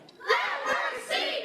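Heated crowd at a school district board meeting's public comment session shouting over each other in loud overlapping bursts, raised voices surging and dipping without pause.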